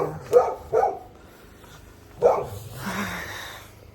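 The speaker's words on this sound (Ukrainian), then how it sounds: "А собаки все гавкають і гавкають." Dogs bark in short, sharp bursts, three distinct woofs at a moderate distance followed by a softer, drawn-out yelp, with quiet pauses between them and no talking.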